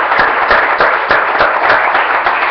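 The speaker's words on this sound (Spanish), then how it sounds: "vamos a darle un aplauso al Señor" A church congregation applauds together, loud and close, with a steady rhythmic beat of many hands clapping in unison throughout and no voices standing out.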